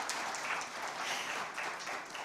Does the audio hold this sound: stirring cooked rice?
no